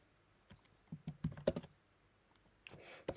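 Keyboard keys being typed while entering code in Roblox Studio: a short run of separate clicks and quick clustered taps, fairly close, with small pauses between bursts and no voice.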